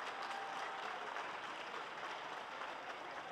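A large crowd applauds the chief minister at a power grid substation foundation ceremony in Saharsa, a steady wash of distant clapping that holds at an even level throughout.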